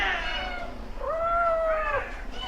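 Cats in an animal shelter's cat room meow, one long, clear, rising-and-falling meow near the middle and fainter cries before it, over a quiet room hum.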